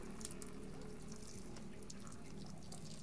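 Water runs steadily from a tap into a sink, a continuous broadband rush with no voices over it.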